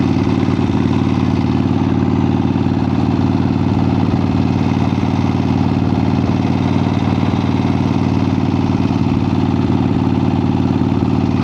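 A 1975 Harley-Davidson XLCH Sportster engine idles loudly and steadily up close, a continuous throbbing, lumpy rumble with a slight clatter and no voices over it.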